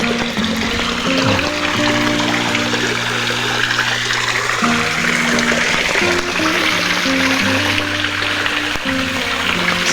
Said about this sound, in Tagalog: It's a natural spring water.